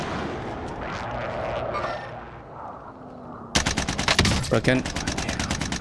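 Video game gunfire: muffled shots under a voice at first, then a sudden loud burst of rapid automatic fire with close, sharp repeated cracks.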